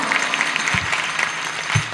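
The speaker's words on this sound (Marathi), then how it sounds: "त्यांच्यासाठी एकदा जोरदार टाळ्या होऊ द्या" Applause from a kirtan audience for the sound system operator, steady crowd clapping filling the whole moment with a couple of louder low thumps.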